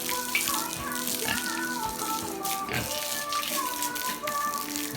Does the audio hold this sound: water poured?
yes